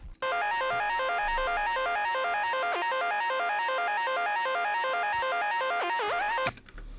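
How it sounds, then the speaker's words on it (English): An arpeggiated synth lead built in Serum for a trap beat runs in a fast, continuous, bright repeating pattern, loud and alone for nearly seven seconds before cutting off abruptly. "Serum made like an ARP sound with this lead,"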